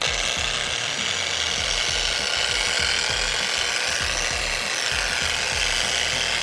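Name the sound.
power buffer at speed 2 applying product on boat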